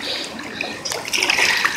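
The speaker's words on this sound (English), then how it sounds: "Now it's even starting to rain." Rain begins falling outdoors during hurricane preparations in Florida, a steady patter and splash of water on surfaces that grows louder and denser partway through, with wind in the background.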